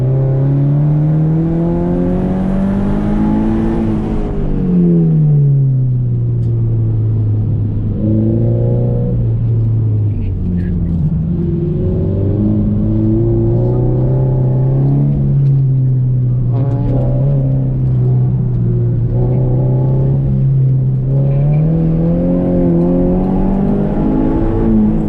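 A car on new coilovers accelerates hard on a test drive, its engine note rising through the gears in loud, repeated revving sweeps with a constant road rumble underneath, heard from inside the cabin.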